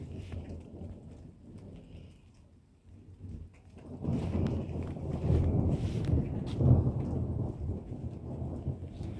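Thunder rumbles over steady rain in a garden during a thunderstorm, quieter at first, then a long loud roll building in after a few seconds and holding strong to the end over the hiss of rainfall.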